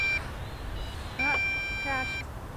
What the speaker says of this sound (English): the controller is beeping